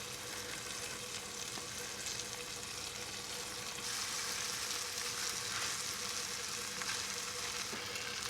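Day-old white rice frying in a pan outdoors by a river, a steady close sizzle that grows louder and brighter partway through, with no talking.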